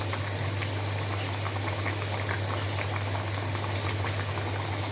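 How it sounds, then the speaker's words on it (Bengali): Thin fish curry with bottle gourd boils hard in a pot, a dense, steady bubbling roar heard close up with a low constant hum beneath. "ঢাকা খুলে দেখি, ভালোভাবে ফুটে গেছে"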